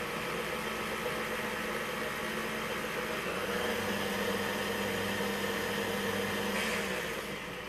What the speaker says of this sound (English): I use my KitchenAid for everything. All right, gonna get loud here